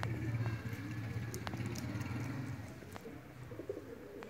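A racing pigeon, a golden cross, lands after a long flight and gives soft, low cooing under faint outdoor background noise.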